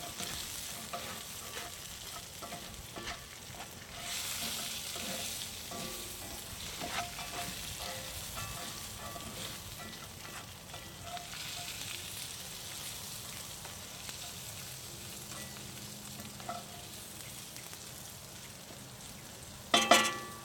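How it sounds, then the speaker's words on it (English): Onions frying and being stirred in a cast iron pan outdoors, with a steady sizzle running throughout, occasional scraping stir sounds, and a sharp clatter near the end. "Go ahead while that's grilling up and give our onions a stir."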